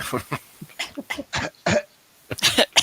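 Someone imitates a small creature coughing with a rapid series of close, rough, throaty coughs and hacks, irregular in rhythm and ending in a louder cluster.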